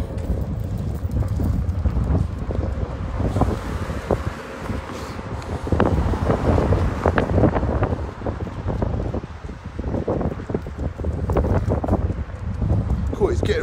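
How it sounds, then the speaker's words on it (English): Strong wind blows outdoors, a steady rushing roar buffeting the microphone for the whole stretch, with irregular thumps and rustles mixed into the gusts. "Right, windy now."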